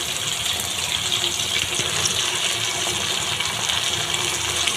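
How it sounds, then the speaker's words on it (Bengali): A little water poured into a curry, a steady close rushing splash that lasts the whole time without a break. "দিয়ে দিচ্ছি সামান্য পরিমাণে জল।"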